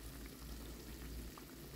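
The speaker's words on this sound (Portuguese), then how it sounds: "agora eu vou terminar de misturar e vou fritar" Dough fritters frying in fat that is only moderately hot, giving a steady, dense close-up sizzle with fine crackling throughout and no voices.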